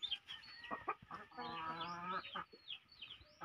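A hen clucks in an egg coop on a rural farm, giving a run of short clucks that swell into a longer drawn-out call mid-way, close and clear, with soft bird sounds around it.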